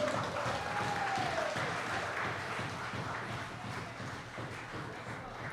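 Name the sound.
audience applause after a speech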